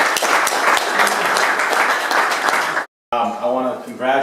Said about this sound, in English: Put your hands together for Dan Simons.